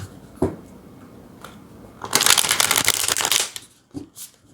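Tarot cards shuffled up close: a brisk riffling burst lasting about a second and a half, framed by softer handling taps and card slides before and after.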